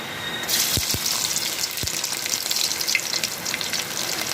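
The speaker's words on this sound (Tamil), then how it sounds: "எண்ணெய் நல்லா சூடாயிட்டு இப்போ பொடியாக நறுக்கி வச்சுருந்த பூண்டை சேர்க்க போகிறோம்." Hot oil bursts into a loud, crackling sizzle after a short pause as finely chopped garlic hits the pan, with a couple of low knocks early on.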